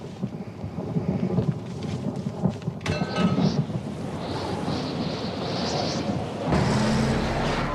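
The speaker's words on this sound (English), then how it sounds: "This storm is breaking through the cap." A thunderstorm rages with loud rolling thunder and a sharp crack partway through, over heavy rain and gusting wind noise, with no speech.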